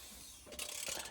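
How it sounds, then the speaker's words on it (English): A small ratchet turning the crank pulley bolt on a 1990 Ford Orion Equipe engine, heard as a brief, faint burst of clicking pawl teeth after a quiet pause. "my little ratchet on the crank pulley bolt, so here goes. Will it turn?"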